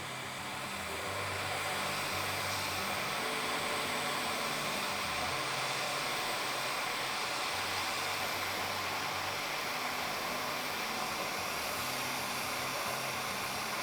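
Propane torch flame roaring steadily and close while a copper pipe joint is heated for soldering with flux, a continuous broadband hiss with a low rumble underneath, no voices.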